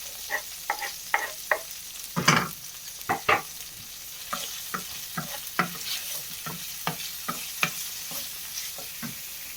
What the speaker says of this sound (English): Actually going to add the onions and garlic.